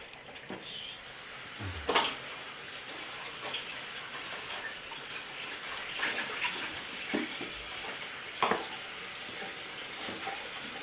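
A dish is washed at a sink during curry cooking, heard as quiet running water and splashing with a few sharper clinks and knocks spread through the clip, somewhat distant.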